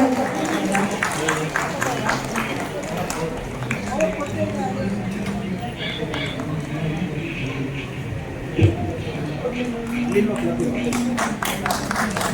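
Audience applause at an evening music concert in a cultural venue, heard as scattered clapping from a crowd in the hall. An announcer keeps talking over the clapping the whole time.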